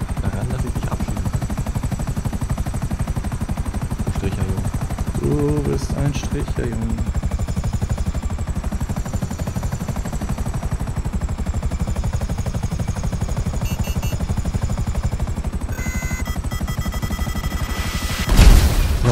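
Helicopter in the video game GTA Online, a loud, continuous rotor drone that holds throughout, mixed with bursts of gunfire and impacts, while someone talks over it.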